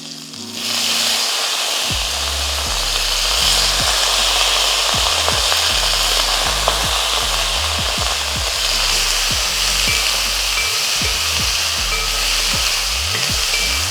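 Onion and eggplant sizzle loudly and steadily in a pan for sambar, with a constant frying hiss under repeated scraping and stirring strokes of a utensil against the pan.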